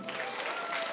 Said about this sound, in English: Don't you think they also deserve a big round of applause?